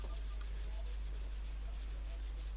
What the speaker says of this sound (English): This is just a Brillo pad, basically, just a cleaning pad you'd use.